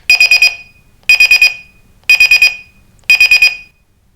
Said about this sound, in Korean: 이걸 누르면 이제 소리가 나요. 어느 정도 소리가 나는지 한번 들어보세요